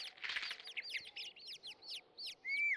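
Cartoon birds nesting inside a broken seven-barrel cannon in the One Piece anime chirp rapidly, a bright string of quick tweets repeating in bursts, clear and fairly close with no talk.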